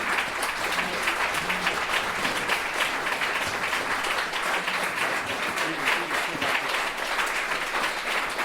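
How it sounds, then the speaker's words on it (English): Sustained audience applause at a political convention panel, a dense, steady wash of clapping from a large crowd, moderately distant and continuous without letting up. "And keep clapping for our next panelist."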